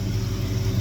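Classic car engine fitted with an Edelbrock carburetor, running loud and close with a steady low rumble and a slight rise in revs through the short burst.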